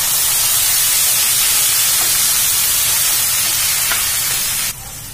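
Onion paste frying over medium heat in a hot pan for shahi egg curry, a loud, constant broadband hiss and sizzle that drops slightly near the end.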